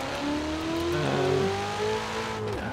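A 2019 Ferrari 488 Pista spins donuts on dirt in Forza Horizon 4, its engine note rising and falling steadily and dropping away near the end, with tire scrub underneath and no talking.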